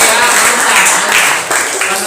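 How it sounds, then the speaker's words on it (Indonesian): Applause and clapping from a classroom group after a student presentation during a teaching-practice session, a dense, steady patter of many hands filling the whole stretch, loud and close, with faint voices mixed in. "ayo semua tepuk tangan"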